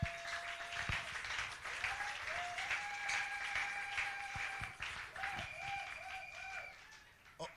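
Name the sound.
congregation applauding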